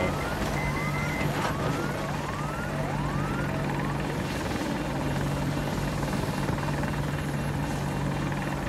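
AH-64X Apache Warchief attack helicopter in the Battlefield 2042 video game, a loud, continuous rotor and engine roar with rising whistling sweeps and a steady hum, no voices over it.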